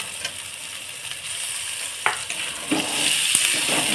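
Chopped tomato and prawn masala sizzles in a pan as it is stirred, a steady close frying hiss with a few scraping spatula strokes toward the end.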